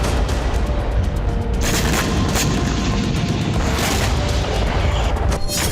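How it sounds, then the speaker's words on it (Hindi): Explosions from a Russian hypersonic missile strike on Kyiv rumble and boom continuously in a dense, loud barrage, with no voices. "शहर में कई जगहों पर भयानक धमाके हुए।"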